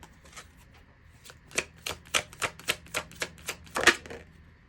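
Stiff tarot cards are handled and shuffled in a spooky deck, giving a run of about ten crisp, evenly spaced snaps and riffles. The sound is close and clear, with no voices over it.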